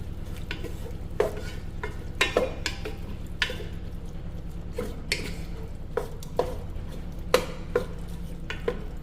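Beef tips with minced garlic are stirred in a pan over a steady sizzle, with repeated scraping clatters of the utensil against the pan at an uneven rhythm, close and clear, with no talking.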